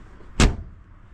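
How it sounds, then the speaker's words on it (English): A Mercedes W123 car door shuts once with a solid, close, vault-like thud after a repaired door striker. A quiet background surrounds the brief impact. "sounds like a nice vault door sound that these old Mercedes make"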